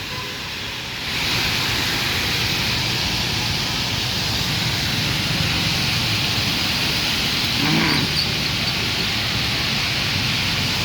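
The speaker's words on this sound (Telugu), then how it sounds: "ఈ విధంగా ఈ రోడ్లో వర్షపాతం అయితే ఎక్కువ ఉంది." Heavy rain on a road in Hyderabad roars steadily as a dense, even wash of noise, beginning abruptly and continuing without pause.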